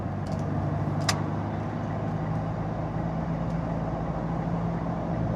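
A 2017 Montero GT 4x4 driving in manual mode with paddle shifting, steady low engine and road drone with a faint click, no talking.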